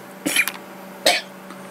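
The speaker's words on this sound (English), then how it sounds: "Cough your guts up." A person coughs twice at close range, two short rough bursts about a second apart against a quiet room background.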